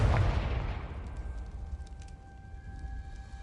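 Spell blasts from Bombarda and Confringo in the video game Hogwarts Legacy: a loud booming burst at the start that rolls off into a fading low rumble, with thin steady tones lingering behind it.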